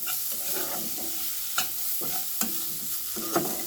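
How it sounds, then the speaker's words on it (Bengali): Sidol curry with turmeric and salt stirred in a pan, a steady sizzle under rhythmic scraping strokes of a spatula, with a few sharper clacks against the pan, close and alone. "হালকা করে হলুদ দিই লবণ দেব এই যে স্বাদ মতো লবণ আবার একটু নাড়াচাড়া দিই"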